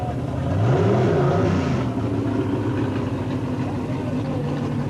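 A drag racing car at Boundary Bay Raceway in a Bill Jenkins and Dick Landy match race, its engine idling and revving with rising and falling pitch, heard under a public-address commentator's voice.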